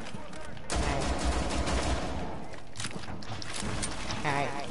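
Rapid automatic gunfire rattles in a video game, loud and continuous, with bursts layered under shouted talk from players.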